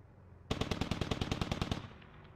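Automatic gunfire in the military shooter game Squad, fired at buildings: a sudden rapid burst of about a dozen sharp, evenly spaced shots, loud and close, cutting off abruptly and leaving a faint tail.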